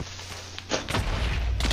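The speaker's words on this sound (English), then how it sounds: "So many explosions!" Booming blasts from Minecraft explosions, a quieter rumble giving way to a loud burst and continuing rolling detonations close by, with no talk over them.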